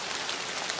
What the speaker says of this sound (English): Rain had to fall.